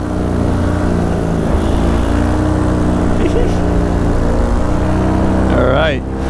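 A paramotor fitted with an Apco pod passes in flight, its engine giving a loud, steady droning roar that holds throughout and briefly shifts in pitch near the end as it goes by.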